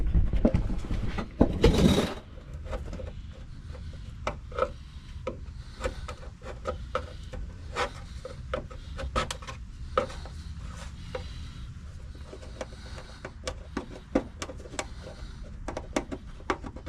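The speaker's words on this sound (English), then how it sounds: "it has the rubberized undercoating, so I'm going to scrape that away" Rubberized undercoating being scraped off the metal body of a 2014 Promaster van, a steady run of short rasping, rubbing strokes with one heavier burst near the start, close and alone.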